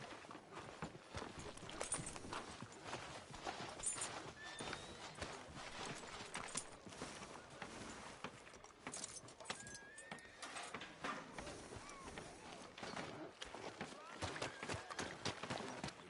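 Horse hooves clip-clop on a town street in the video game Red Dead Redemption 2, a steady rhythmic patter mixed with ambient game sounds while people talk over it.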